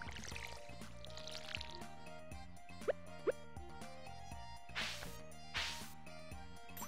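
A watering can pours over crops in the video game Stardew Valley, giving two short splashing gushes over soft background game music and small clicks.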